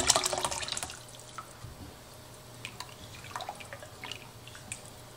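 Homegrown, home-canned tomatoes poured from a jar into a pot, with a wet splashing gush at the start followed by sparse, faint drips and plops.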